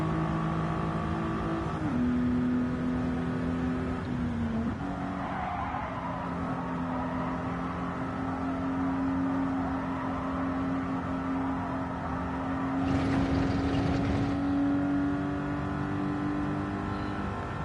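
A 1988 Toyota Supra 3.0GT Turbo A being driven, its engine droning steadily at a sustained pitch with a brief gear change early on, heard from inside the car, loud and continuous without speech.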